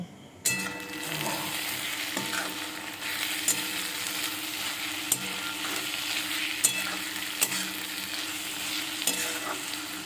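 Green chilies and a bay leaf sautéing with a ginger, onion and garlic paste make a soft, continuous sizzle punctuated by regular clinks and scrapes of a spoon stirring the pan, close by, without talk.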